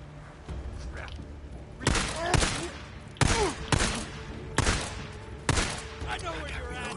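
Shotgun blasts in the video game Days Gone, four or five heavy booming shots spaced about a second apart, loud and close, over a low game ambience.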